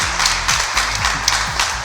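A studio audience in Amiens claps for the team on a French TV show: a short burst of bright, dense applause with a voice mixed in underneath.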